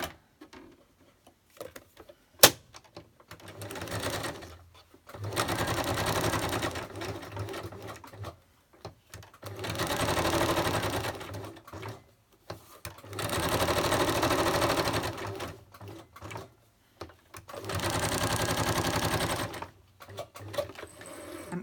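Electric sewing machine stitching around the edge of a felt tag, running in four sustained bursts of steady rapid whirring with short pauses between, close and moderately loud, with no talking.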